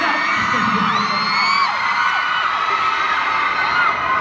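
A large crowd at a live talk event in a Bangkok shopping mall screams, whoops and cheers loudly and without a break, with high-pitched shrieks standing out.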